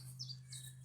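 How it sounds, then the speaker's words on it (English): Birds chirp outdoors, with a couple of faint high tweets over a steady low hum. "now it's time for me to just listen to the birds"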